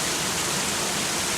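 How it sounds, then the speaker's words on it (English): Heavy rain pours in a constant, dense hiss during a storm under a tornado warning in Fort Worth, Texas, steady and unbroken with no other sounds over it. "it's raining like a son of a gun"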